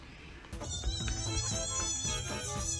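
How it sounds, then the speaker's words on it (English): A cat lets out one drawn-out, wavering meow lasting over two seconds, loud and close against a background of low rumbling noise. "It's a long-ass meow!"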